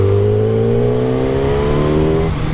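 A Yamaha FZ1 1000cc motorcycle pulls hard in third gear from about 30 to 50 mph, its engine droning loud and close with a steadily rising pitch and no talk.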